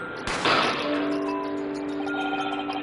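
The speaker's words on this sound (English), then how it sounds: "A gunshot rang out" Single gunshot effect from The Great Ace Attorney: one sharp crack followed by a long ringing, metallic decay that fades out over a couple of seconds, alone without speech.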